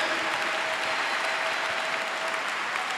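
Church congregation applauding together during a French-language sermon, a dense, steady burst of clapping that fills the room for the whole stretch, with cheering voices mixed faintly underneath.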